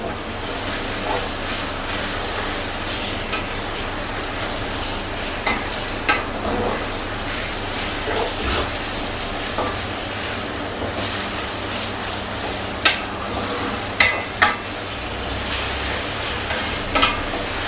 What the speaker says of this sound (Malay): goreng sikit daging kita.